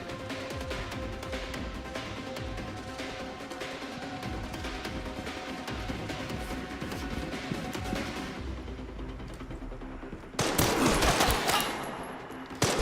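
Rapid gunfire from an enemy shooter in the video game Resident Evil Requiem, sustained bursts rattling continuously at steady loudness, then a sharper, louder volley near the end.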